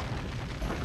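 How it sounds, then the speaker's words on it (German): A video game explosion in The Legend of Spyro: The Eternal Night, in a swamp, a short muffled boom with a low rumbling body and a second thump near the end, moderately loud. "Explosion. Genau."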